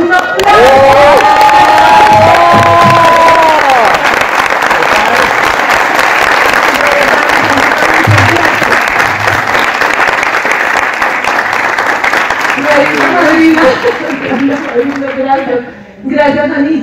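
A convention crowd bursts into loud, sustained applause and cheering, many hands clapping close and strong with whoops and shouts, while an amplified voice speaks over the start and end.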